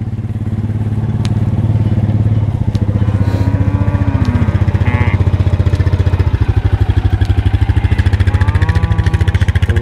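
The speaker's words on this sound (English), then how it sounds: "he's gonna bring that four-wheeler across this wire" A four-wheeler ATV engine runs loud and close for the whole stretch, a steady chugging drone with rising revs as it drives across a wire on a cattle farm.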